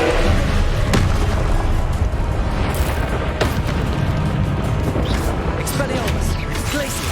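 A Confringo fire spell bursting in Hogwarts Legacy combat: dense, loud rumbling booms and crashes layered with battle clamour and voice shouts throughout.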